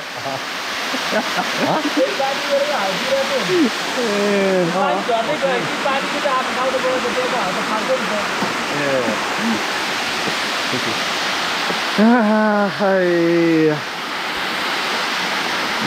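A 50-metre-high waterfall near Nohak Cave roars as a constant loud rushing wash, with a voice singing over it at intervals.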